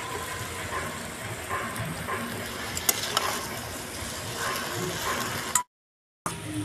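Boiled egg chowmein noodles tossed and stir-fried in a hot kadai give a steady, close sizzle with scraping stirs throughout, broken by a brief cut to silence near the end.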